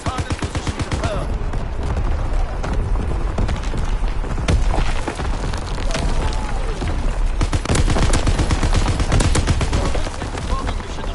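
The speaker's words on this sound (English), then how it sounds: "Firing primary battery." Dense, continuous booming from a warship's primary battery guns in an online naval video game, heavy rolling blasts layered one over another with no pauses.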